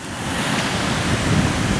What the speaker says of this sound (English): It's nice and windy too.